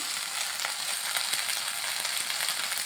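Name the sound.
spices and vegetables frying in a pan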